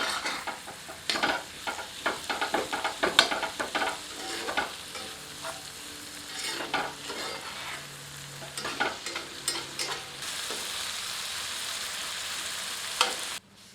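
Tomatoes sprinkled with salt are stirred and fried on medium heat for a chicken lababdar, with a continuous close sizzle broken by repeated scraping strokes of a ladle against the pan.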